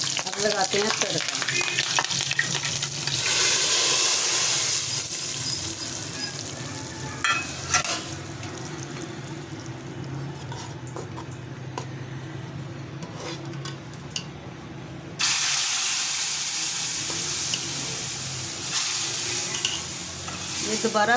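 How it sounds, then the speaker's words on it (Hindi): Sizzling tadka sizzles hard in a frying pan as spices hit hot oil for dal, a loud steady hiss with stirring scrapes, briefly quieter in the middle before flaring up loud again. "अब लगाते हैं तड़का।"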